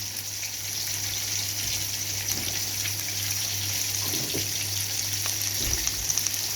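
Oil sizzles in a pan in a home kitchen while fish rice is being cooked, a steady broadband hiss throughout with faint clinks and a few soft knocks toward the end.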